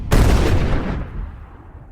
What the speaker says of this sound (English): a deafening explosion rocked the vehicle as an RPG struck it with brutal force and toppled it onto its side